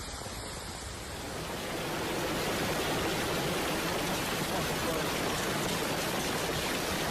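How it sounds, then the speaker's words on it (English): Moderate to heavy rain falls across Taif, a steady dense hiss that swells louder after the first second or two and then holds constant, close and enveloping, with no voices. "Taif has witnessed moderate to heavy rain in parts of the province"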